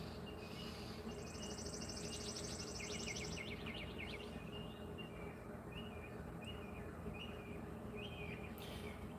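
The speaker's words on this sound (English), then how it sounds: "listening to the birds" Birds sing at dawn in a series of faint, distant chirps and trills over a steady background hum of insects, with no voices.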